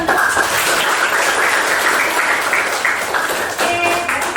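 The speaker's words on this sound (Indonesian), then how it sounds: "Ya, beri tepuk tangan untuk." A classroom audience claps for a student presenter, a dense and loud burst of many hands that holds steady for several seconds, with faint voices mixed in near the end.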